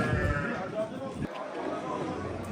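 Sheep at a Turkish livestock market in Şarkışla, with sacrificial animals for sale, bleat faintly within a busy crowd, heard under steady nearby talk and market bustle.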